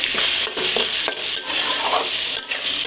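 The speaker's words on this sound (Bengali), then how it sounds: "শুটকি, পেঁয়াজ, কাঁচামরিচ, তারপর হচ্ছে রসুন সব আমি একেবারে তেলে ভালো করে একটু ভাজা ভাজা করে নেব" Dried fish, onion, green chilies and garlic fry together in oil, a loud, close, continuous sizzle broken by repeated scraping and stirring strokes of a utensil against the pan.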